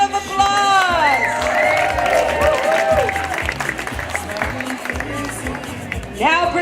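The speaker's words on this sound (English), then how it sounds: "Let's give grade 1 a round of applause." Crowd at a school word parade applauding for grade 1, dense clapping with cheers, whoops and children shouting, voices rising and falling over the steady noise before it fades near the end.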